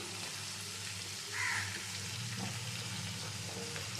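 Chopped ridge gourd and eggplant pieces tipped into a hot pan for a summer vegetable curry, giving a close, steady sizzle with a brief louder hiss as they land, no talking.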